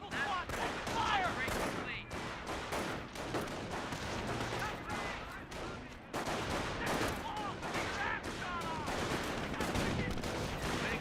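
A rifle squad firing in the World War II strategy game Company of Heroes: dense, continuous crackling volleys of rifle and machine-gun shots, loud and close, with voices talking in the mix.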